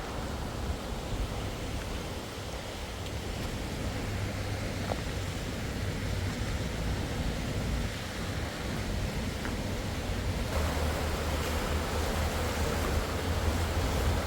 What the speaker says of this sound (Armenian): Գետը հորդացել է, քանի որ գարուն է եւ հալքը թափ է առնում։